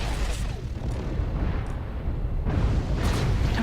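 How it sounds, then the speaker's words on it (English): Artillery strike explosions in the mech combat game Mechwarrior Online form a continuous loud, rumbling roar of blasts, with a fresh burst of impacts about two-thirds of the way through. "Artillery strike online"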